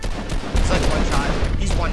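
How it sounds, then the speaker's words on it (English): Rapid bursts of gunfire from Fortnite weapons crackle in quick succession, loud and close, mixed with game noise. "These guns sound amazing."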